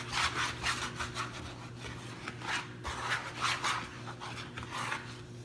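Hands work flour tortilla dough in a bowl, giving a steady run of soft rubbing, scraping strokes close by with a low background hum and no talk.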